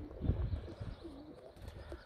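A blue male pigeon gives a few soft, low coos close by, with quiet gaps between them.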